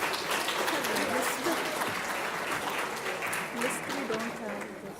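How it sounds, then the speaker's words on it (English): Audience applause for the winning student team at a National Science Day prize ceremony, a continuous crowd clapping that holds loud and slowly tapers, with voices mixed underneath. "A big round of applause for the team."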